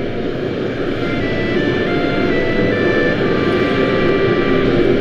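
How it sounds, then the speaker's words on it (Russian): A steady, loud video-game airplane engine drone holds throughout, like an airplane idling before takeoff, with a constant broadband roar and no voices. "Самолет готов к взлету."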